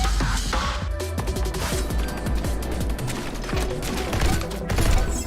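Gunshots in the video game Neon White, rapid sharp cracks and impacts layered over a busy, continuous game soundtrack, close and loud with no clear pauses.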